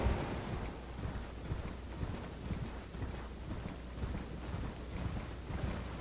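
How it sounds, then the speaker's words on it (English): Steady, rapid hoofbeats of a galloping horse in the video game Elden Ring under a constant low rumble, continuous and fairly loud throughout, no speech. "Let's get on our horse."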